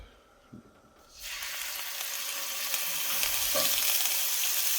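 Pork tenderloin hits hot oil in a pan with a sudden loud sizzle after a quiet moment and a small clunk, then keeps searing steadily and loudly.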